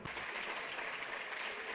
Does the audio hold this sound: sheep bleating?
no